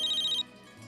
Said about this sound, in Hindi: अरे उसी का फोन होगा